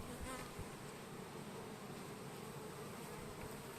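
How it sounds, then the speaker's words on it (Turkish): A dense, continuous buzzing of many honeybees fanning their wings at the hive entrance, up close, a steady droning hum without pauses. "kanat çırparak topladıkları nektarın da suyunu uçuruyorlar"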